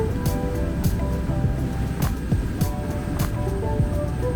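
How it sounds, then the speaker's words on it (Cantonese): A Thames Clippers river bus speeds along the Thames in London after Greenwich, a loud steady engine drone and water rush with periodic bursts of spray or hull slaps, no talking. "繼續行程，水上巴士就會以高速離開。"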